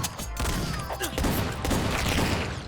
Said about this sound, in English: Chop Goblins actually has Doom Eternal style fast weapon swapping